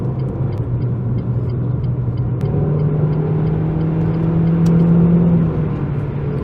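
Renault Clio 3 RS accelerating in fourth gear at about 75 km/h and 3500 rpm to overtake, a loud steady engine drone rising slightly in pitch, heard from inside the car.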